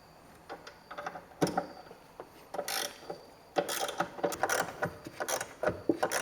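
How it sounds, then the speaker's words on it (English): A ratchet wrench takes out the mounting bolts of a power running board on a Yukon/Tahoe truck, its sharp, close clicking coming in short bursts separated by pauses and growing busier toward the end. "we're going to remove the three main mounting bolts holding the assembly onto the truck"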